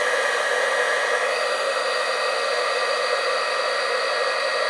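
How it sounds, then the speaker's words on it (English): A heat gun runs steadily for the whole stretch, held horizontally to warm a dowel inside a horse cake's internal support, giving a loud, continuous broadband hiss with no talk over it. "turn on my noisy heat gun, and hold that horizontally"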